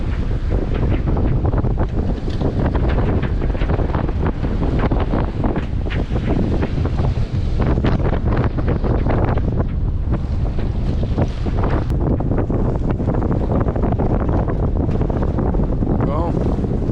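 Strong 20–25 knot wind buffets a sailboat at sea off Madeira, a loud continuous roar of gusts across the microphone mixed with rushing water and waves, with voices faintly under the noise.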